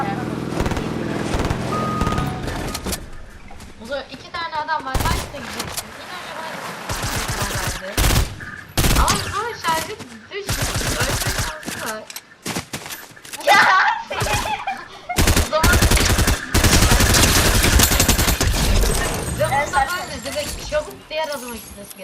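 Rapid bursts of Fortnite gunfire crackle repeatedly under ongoing talk, sharp loud shots in clusters with brief pauses between them.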